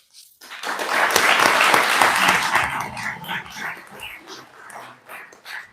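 Applause from an audience at an award ceremony for the Premio Civitas Vitae 2025 swells quickly into full clapping, then gradually thins to scattered claps.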